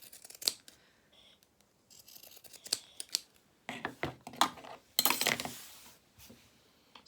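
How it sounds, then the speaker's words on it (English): Pinking shears cut zigzag edges into fabric for a small sewn rabbit's dungarees. The crisp snips come close up in irregular clusters, with brief pauses between bursts of cutting. "I'm just going to use my pinking shears"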